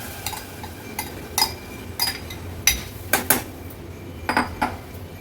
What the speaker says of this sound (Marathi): आता ही भिजवलेली अख्खा मसूर आपण ऍड करूया।